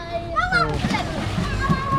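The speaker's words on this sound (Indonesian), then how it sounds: "Ini aktivitas ading-ading mandian di Sungai Barito." Children splash while bathing in the Barito River, water sloshing and spattering close by as young voices chatter over it outdoors.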